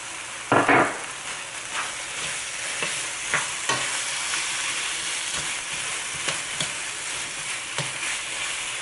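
Shrimp sizzles in a pan with white onion and red chili for a yellow curry stir-fry, a steady close frying hiss broken by repeated sharp scraping strokes of a spatula.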